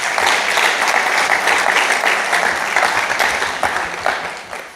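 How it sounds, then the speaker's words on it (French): An audience applauds at the draw ceremony for the 10th Dom Tom Cup 2022, with dense, sustained clapping from a crowd that slowly thins toward the end. "Sous vos applaudissements"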